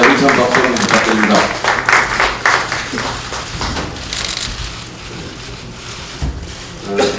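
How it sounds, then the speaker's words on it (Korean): Applause at a Korean party leadership meeting, a loud burst of many hands clapping that thins and fades midway, with murmuring voices mixed in and a few claps returning near the end. "힘찬 박수 부탁드립니다"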